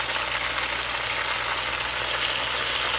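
Roughly chopped homegrown green onions go into a hot pot for Jamaican-style brown stew chicken, with a loud, steady sizzle and frying hiss that holds evenly throughout and no distinct splash or drop.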